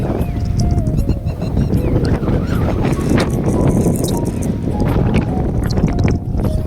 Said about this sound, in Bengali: এখানে হাওয়াটা জাস্ট দিচ্ছে দেখো, পেছনে সূর্যটা সানসেট হচ্ছে, হাওয়াটা জাস্ট দিচ্ছে দেখো, যেন ঝড় উঠেছে